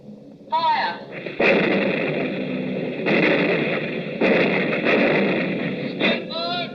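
Radio drama effect of an anti-aircraft gun battery firing, a series of loud booming salvos in bursts, with a voice heard briefly between them.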